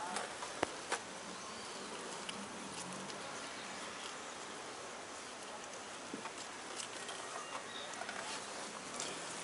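Native stingless bees hum steadily around a wooden hive box while it is being set up, a soft continuous buzz with occasional faint clicks, close and even throughout with no talking.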